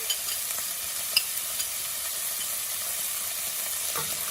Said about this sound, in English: Just gonna stir it a little bit